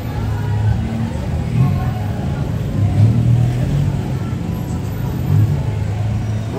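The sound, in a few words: motorbikes on a Bangkok street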